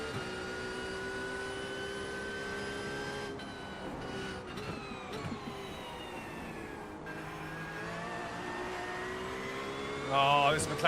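A McLaren race car engine in a sim racing game, a steady high-pitched whine with shifting harmonic tones as the revs rise and fall, briefly rougher near the end, heard alone.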